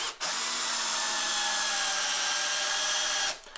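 Stanley SCD121 12V cordless drill set to low gear driving a big screw, one steady whirring run of about three seconds, close and fairly quiet, starting and stopping abruptly.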